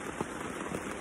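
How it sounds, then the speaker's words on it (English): Steady rain patters on a marquee tent pitched over a smaller tent at a campsite, a dense continuous hiss with a few louder drops, close and alone without talking. "It's raining. I managed to get the marquee up."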